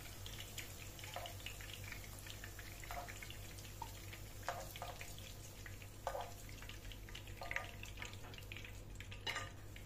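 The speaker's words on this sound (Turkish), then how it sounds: "Kalan diğer köftelerimi de aynı şekilde kızartmaya devam ediyorum." Turkish köfte meatballs fry in a pan with a quiet, steady sizzle. Soft crackles and pops are scattered through it, and no one speaks.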